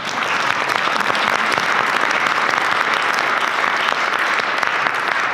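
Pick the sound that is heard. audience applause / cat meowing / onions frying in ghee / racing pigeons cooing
audience applause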